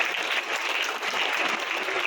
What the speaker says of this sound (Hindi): आप सभी लोग अपने गुरु माता पिता के लिए ताली बजाइए जोरदार